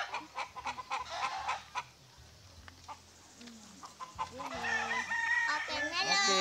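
Rooster crowing loudly with repeated drawn-out calls, joined by clucking from a crowd of chickens on a farm; earlier there are scattered sharper bird sounds and rustling, and the crowing builds toward the end.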